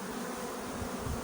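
A honeybee colony buzzes steadily during a hive inspection, a close, continuous hum with no pauses across the short stretch.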